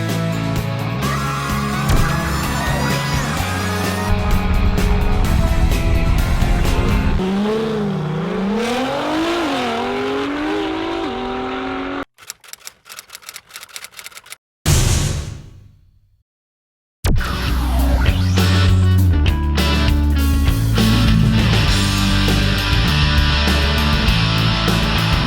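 A 2016 Fiat 500X with a front-wheel-drive 2.4-liter MultiAir Tiger Shark four-cylinder and nine-speed automatic climbs a steep off-road gold mine hill, the engine droning and revving loudly with shifting pitch, cut by brief near-silent gaps.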